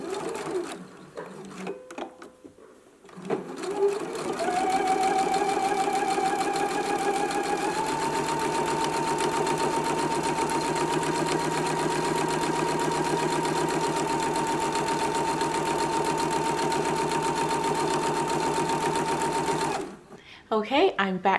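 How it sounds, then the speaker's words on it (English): A sewing machine runs steadily while stitching a narrow hem in fabric, starting after a few seconds of handling noise and humming continuously for about fifteen seconds before stopping, fairly loud and close. "Okay, I'm back from the sewing machine and I've just stitched my narrow hem in place."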